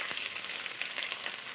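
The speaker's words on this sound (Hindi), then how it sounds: "कटा हुआ प्याज इसके अंदर डालूंगी।" Chopped onion and cumin seeds frying in a hot pan for egg curry, a steady close sizzle with crackling bursts throughout, no voices.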